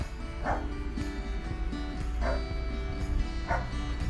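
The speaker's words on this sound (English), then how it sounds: "And the dogs are barking." Several dogs bark in repeated yips and woofs outdoors on a snowy evening during a Michigan snowstorm, the barks coming in bursts over a steady low rumble that may be a snow blower.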